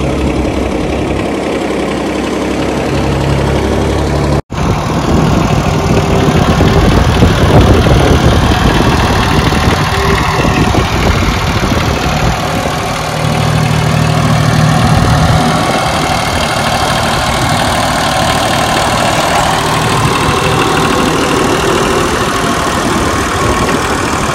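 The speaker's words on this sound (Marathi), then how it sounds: "तर आता तुमचा भाऊ ट्रॅक्टर चालवतोय" A tractor engine idles and runs steadily on a farm field where crop spraying is under way, a loud continuous low rumble lasting throughout after a brief cut near the start.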